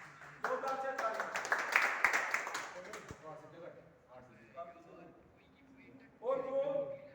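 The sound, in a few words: loud clapping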